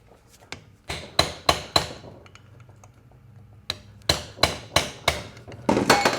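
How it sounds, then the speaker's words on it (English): A small screwdriver works at the rear seal of a GM transmission, producing a series of sharp, close metallic taps in two quick rhythmic runs with a short pause between. "You can kind of just take a small screwdriver and kind of grab it. Just the edge of it, try to pull it out."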